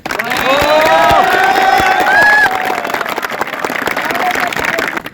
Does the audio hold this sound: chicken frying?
no